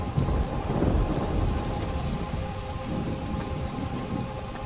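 A thunderstorm in the Pineview Drive horror game brings steady heavy rain with a deep rolling rumble of thunder, continuous and fairly loud without any talk.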